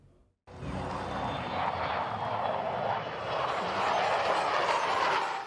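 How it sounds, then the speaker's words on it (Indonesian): Fighter jets, an F-16 and a Hawk 200, roar overhead while maneuvering in a simulated aerial chase at an air show in Pekanbaru, Riau, producing a loud, sustained broadband rush that swells slightly and stays steady throughout. "Inilah aksi manuver mengejar musuh di udara dari pesawat tempur F-16 dan Hawk 200"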